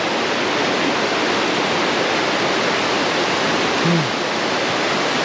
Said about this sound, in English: Look at that water. We're getting to the actual flume up here.